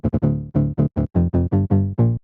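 A dry synth patch built from saw and pulse-width-modulated C64-style oscillators plays a quick melodic run of about a dozen short, punchy notes, bright and buzzy with no effects, loud and close with gaps between notes.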